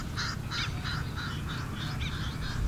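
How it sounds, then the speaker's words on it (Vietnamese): Lapwings call repeatedly in a rice field, a string of sharp, evenly spaced cries over a steady background hiss, moderately distant and fairly faint. "Te te vàng."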